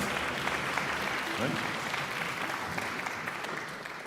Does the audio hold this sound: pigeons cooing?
no